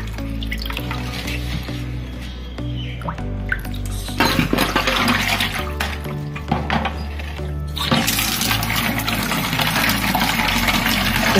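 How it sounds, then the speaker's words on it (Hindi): Guava leaves are washed under a running kitchen tap, with a continuous loud gush of water splashing into a metal vessel and occasional clinks and shifts in the flow as the leaves are handled. "बर्तन नल के नीचे लगा के आप इसे क्लीन कर लीजिए"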